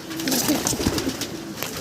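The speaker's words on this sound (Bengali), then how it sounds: "এই যে ডিম নিয়ে বসা আছে কবুতরগুলো" Pigeons in a cage on a farm, some sitting on eggs, coo softly in low, throaty rolling calls, close by, with a faint airy background hiss.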